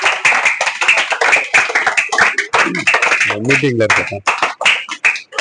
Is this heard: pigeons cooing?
no